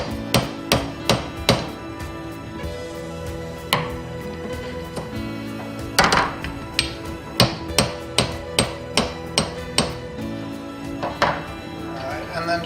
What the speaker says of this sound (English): I'm going to go ahead and hammer this down a little bit